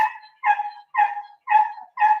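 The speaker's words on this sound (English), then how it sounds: "That's the dog" A dog gives five evenly spaced, whining bark-like yelps with clear pauses between them, close and fairly loud, each cry sliding slightly downward into a whimper.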